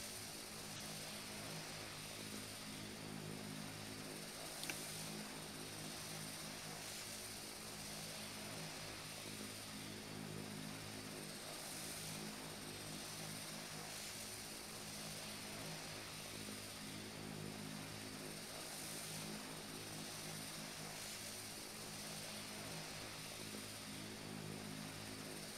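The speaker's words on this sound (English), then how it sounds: "Zig with his one propeller still spinning" A propeller aircraft engine in a flight simulator game drones on steadily, a faint, even buzzing hum that holds through the whole stretch with no voices.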